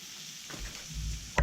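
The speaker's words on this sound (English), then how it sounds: "So I'm cooking 6 eggs." Six eggs frying on a hot steel cooking disc for breakfast migas, a steady broadband sizzle with a scraping clatter near the end, close and moderately loud, no talking.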